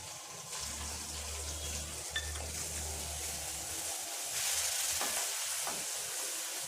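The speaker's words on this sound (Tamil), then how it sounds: "இப்போ வெங்காயம் நல்லா வதங்கட்டும்" Soft, steady sizzling of chopped onions frying in a pan for egg masala curry, with occasional stirring clinks and a low hum in the background.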